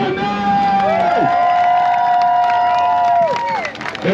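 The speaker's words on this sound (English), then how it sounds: "clap your hands and make some noise!" A street show audience in Times Square, New York cheers and whoops loudly for a few seconds, with crowd noise rising and falling around sustained shouts. Clapping is not clearly picked out.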